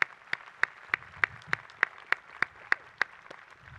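Applause in a commencement Mass congregation honoring students who served the liturgies, heard as scattered, fairly sharp hand claps at a steady rhythm, moderately near and alone without talk.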